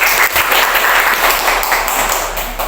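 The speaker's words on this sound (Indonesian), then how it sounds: "Tepuk tangan untuk semua." A class of fourth-grade pupils at a school workshop claps together, a loud, dense burst of many small hands close by that stays full and energetic throughout, with no talking over it.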